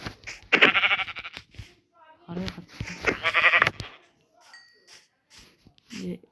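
Someone talks in bursts while a Minecraft sheep bleats once, short and close, amid game sound effects and brief chimes.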